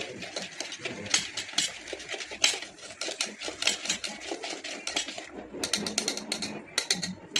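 A spoon beats bhajiya batter mixed with hot oil in a bowl, making rapid, steady clicking and tapping up close. There is a brief lull before the quick mixing resumes, with no speech.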